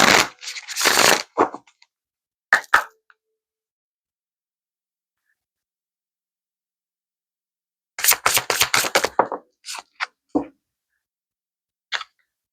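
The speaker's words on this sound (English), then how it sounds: "One more shuffle, we'll get you an affirmation." Brief bursts of tarot cards being shuffled and riffled, a rustling flurry near the start and a longer rapid run of flicks later, separated by quiet pauses.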